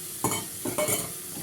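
Washed rice is turned in a pan with two or three short, close scraping strokes over a faint sizzle.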